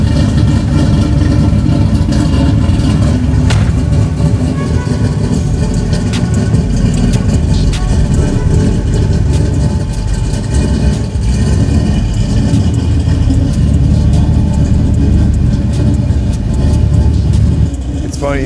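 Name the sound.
Eleanor Mustang engine revving and idling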